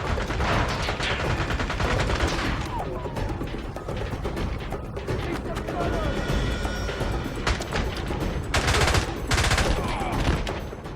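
Sustained submachine gunfire from a UMP in the video game 007: Blood Stone, dense rapid bursts of shots and mechanical clatter running almost continuously at high loudness.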